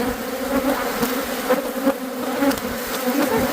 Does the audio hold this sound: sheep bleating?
no